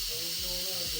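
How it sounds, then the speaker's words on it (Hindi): A pressure cooker whistles, releasing a sharp, steady hiss of steam while mooli salan cooks inside; it is brief and close. "सीटी अब बजना स्टार्ट हो गई है। ये आपको आवाज़ आ रही होगी।"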